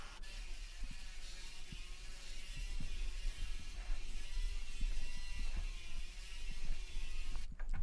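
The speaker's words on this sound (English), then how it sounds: "finishing it off with a sheet sander" A sheet sander works over pallet wood for a coat rack with a steady close whirring buzz that holds throughout, briefly changing near the end.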